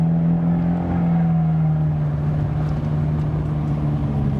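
A steady, deep engine drone holds a constant pitch throughout, a loud Abarth 124 Spider 170hp exhaust in normal mode, idling or cruising with no real revving.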